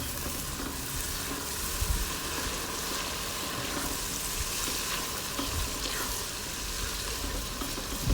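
Curry spice paste for a beef curry fries in a pan, a continuous crackling sizzle with occasional stirring scrapes, moderately close and steady with no speech.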